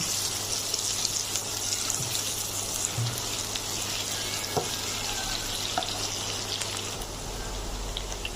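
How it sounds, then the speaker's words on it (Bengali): Onions frying in a pan until browned give off a steady, close sizzling hiss that runs evenly throughout with no talking. "আমি এবার পেঁয়াজটা একটু ব্রাউন করে ভেজে নেব।"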